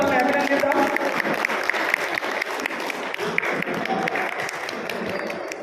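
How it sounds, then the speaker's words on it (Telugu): A crowd at a cultural felicitation event claps loudly while a bouquet is presented, the brisk, uneven applause mixed with voices talking over it. "మనందరం గట్టిగా క్లాప్ కొట్టి"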